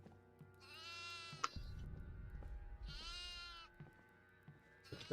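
Two drawn-out, wavering goat bleats with a short gap between them, over a steady background hum and some low rumbling in the video game Devour.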